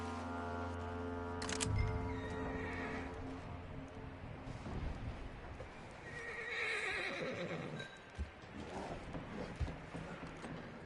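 Horse in Red Dead Redemption 2 letting out a loud whinny, followed by snorts, shuffling hooves and scattered clunks of gear over a quiet background, with no voices.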